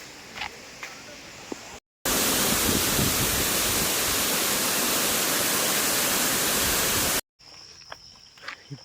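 Waterfall roaring in a steady, loud, broadband rush that cuts in abruptly and holds for about five seconds, set between quieter outdoor stretches with thin insect-like chirps.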